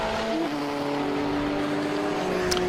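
A touring race car, a Heritage Touring Cars racer such as a Falcon, drives past on a circuit, its engine a steady loud drone with a sharp tonal whine held throughout, no talk over it.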